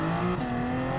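A 2021 Toyota Supra race car in Gran Turismo 7 at the Nürburgring holds a loud, steady engine drone with a clear tonal whine that drops slightly in pitch partway through, with no talk.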